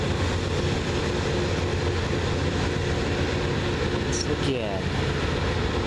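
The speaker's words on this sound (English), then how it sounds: "That's Loram rail grinder" Loram rail grinder 316 rumbles past with a steady, loud, broadband roar of engines and wheels that fills the whole span, as a voice briefly speaks over the noise.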